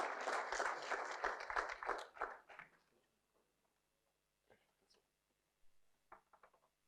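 A short burst of audience applause at a construction and engineering supplier day, fairly loud clapping for about two seconds before fading into a quiet room with a few faint clicks and knocks.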